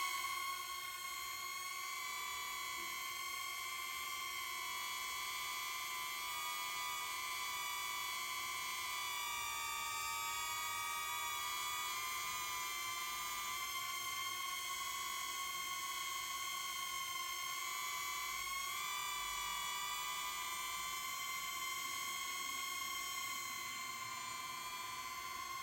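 A DJI Neo drone in flight, after about a year of use, gives a steady high-pitched whine with several tonal layers that hold loud and constant throughout, with no voices.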